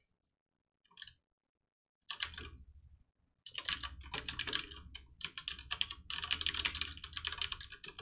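A computer keyboard rattles with fast, irregular typing during Python coding, heard as dense bursts of close clicking keystrokes with brief pauses between them.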